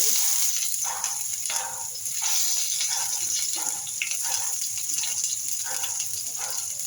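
Onions sizzling and frying in hot oil in a pan, the start of a bitter gourd and prawn fry, a steady close crackle with small stirring movements and no talk.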